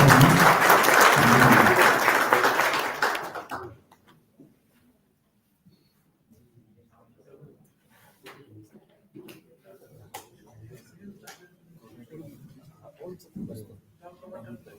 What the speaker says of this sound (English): Can we have a round of applause as you welcome Jaipur?